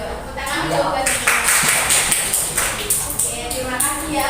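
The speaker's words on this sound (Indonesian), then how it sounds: "Yuk, tepuk tangan coba." Children clapping their hands together in a classroom, a short run of sharp, fairly rhythmic claps mixed with voices talking.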